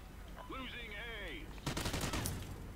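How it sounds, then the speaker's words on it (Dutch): Rapid minigun fire in the Call of Duty Ghosts video game, a dense burst of gunfire in the second half following whistling game effects, loud and close. "Die minigun is toch wel leuk hoor."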